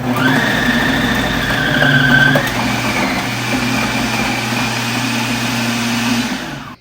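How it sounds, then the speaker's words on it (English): A COOKLEE 600-watt electric food processor runs its shredder disc through cheese, a steady loud motor whine with a pitch drop about two seconds in, then a continuous hum until it stops at the end. "So let's go ahead and hit the shredder. Hit start."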